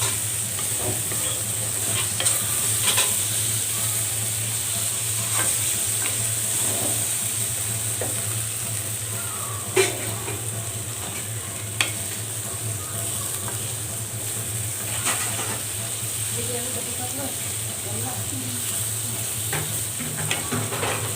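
Tomatoes frying with spices in a pan, a steady close sizzle running throughout with scattered scrapes and clinks of a spoon stirring, no voices.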